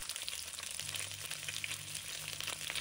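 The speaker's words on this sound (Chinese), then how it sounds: "给鱼块翻了个身，让另一面也接受热油的煎制" Sea bass pieces sizzle and spatter in hot oil in a pan after being turned over, a steady close-up crackle with no talking.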